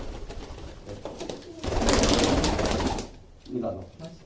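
Pigeons coo softly in a rooftop loft, low throaty calls that swell in the middle and trail off, with fluttering and handling noise and a person talking nearby.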